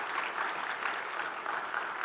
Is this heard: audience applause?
yes